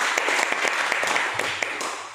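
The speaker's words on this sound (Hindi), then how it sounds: "एक बार जोरदार तालियां।" An audience at a business meeting claps together, a steady burst of applause lasting a couple of seconds and fading slightly at the end.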